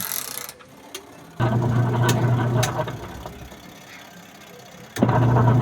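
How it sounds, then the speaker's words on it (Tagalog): A washing machine's wash motor, tested after rewiring wires chewed by rats, kicks in with a steady mid-pitched motor hum, stops briefly, then starts again as it reverses direction. "Yan guys ay gumagana na yung ating wash motor."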